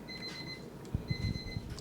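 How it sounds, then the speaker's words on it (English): An alarm clock that had never gone off before beeps twice in a thin, faint, steady tone, followed by soft low knocks and rustles in a quiet room. "The alarm clock that has never gone off before."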